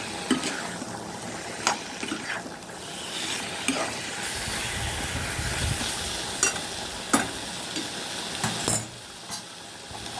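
Boneless gongura chicken sautéing in a pan, with a continuous low sizzle and periodic sharp scrapes and knocks of a spatula spaced a second or two apart, near and moderately loud, no voices.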